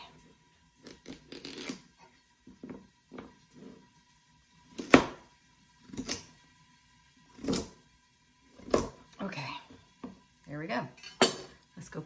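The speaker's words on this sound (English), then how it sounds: "I think I'll cut this one in half this way." A knife cuts through food on a cutting board while making soon dubu jjigae, giving several sharp, sparse knocks and scrapes in a quiet kitchen, with a voice talking between them.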